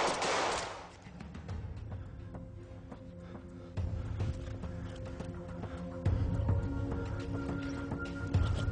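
Rapid volleys of gunfire crack and rattle over a dense, sustained din in a staged armed confrontation, with repeated sharp bursts stacking on one another and no pause across the stretch.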